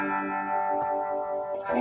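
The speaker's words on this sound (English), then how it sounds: "That's a script logo with no feedback resistor. And the bias pot gets some nice sounds." A P90-pickup electric guitar played through a modded amp with no feedback resistor and a bias pot, giving a sustained, distorted, effects-heavy tone with echo and chorus, loud and steady for about two seconds with no talk.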